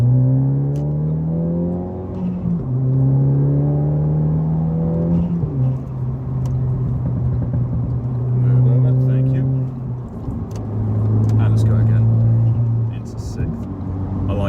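Ford Focus ST250 engine pulling hard up through the gears on a dual carriageway, a steady in-car drone rising in pitch with each gear and dropping at the shifts, loud and continuous, with a voice talking briefly over it.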